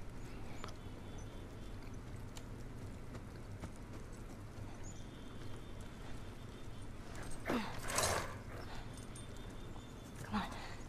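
Horse hooves and whinnying in The Last of Us video game, a steady clip-clop of hooves running through snow under a low rumbling background, with a brief louder neigh near the end.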